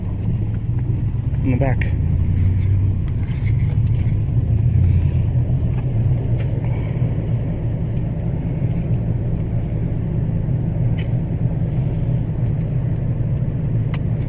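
A vehicle grinds through the woods in four-wheel drive, its low engine rumble steady and close throughout while people talk over it.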